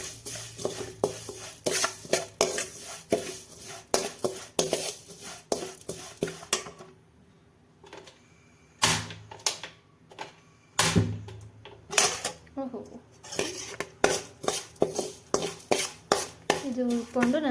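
Vermicelli roasting in ghee in a pan, a small batch stirred briskly: rapid rhythmic metal scraping and clinking of the spoon against the pan, with a short quieter lull midway before the stirring resumes.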